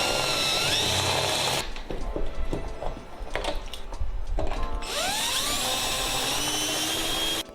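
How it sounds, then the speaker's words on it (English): Power drill boring out cleco holes in a Sonex aircraft main spar, loud whining bursts that stop, give way to clicks and handling noise, then resume in a long close run without talk. "So I'm going to go ahead and drill those out as well."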